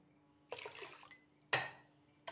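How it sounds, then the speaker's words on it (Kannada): Water is poured into a pot of mackerel fish curry in two short, close splashing bursts, the second one sharper, with quiet pauses between them. "ಈತ್ ಗಸಿ ಒಂಚೂರು ನೀರು ಮೈಪುಗ ಅಂದು"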